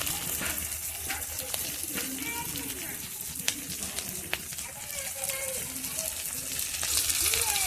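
Cumin and coriander paste fries in a pan with chilli powder for a vegetarian curry, giving a steady sizzle and spatter under light stirring, with faint background voices.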